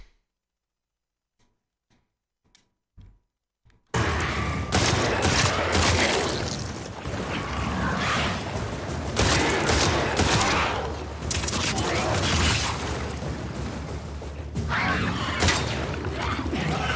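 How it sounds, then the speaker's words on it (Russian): Sustained incendiary shotgun fire and combat in the video game The Last of Us Part II, loud dense bursts of blasts and crashes running for about thirteen seconds after a few seconds of near silence with faint clicks. "надо с дробовика огненного выстрелить"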